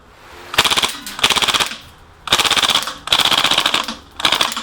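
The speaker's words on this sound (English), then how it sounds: "Now there's more BBs in this magazine, so it's gonna shoot for a while." A KWC Mini UZI BB gun fires on full auto in five separate bursts, each a rapid, even rattle of shots with short pauses between them. The shots are moderately loud and close.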